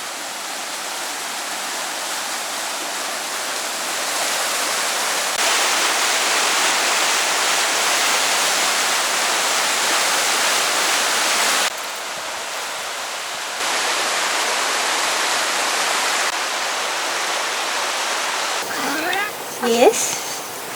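River rushing beside a forest trail in the Cariboo area, a loud steady broadband roar of flowing water that shifts in level as the walker moves, with brief faint voices near the end.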